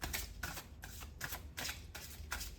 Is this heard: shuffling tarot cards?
yes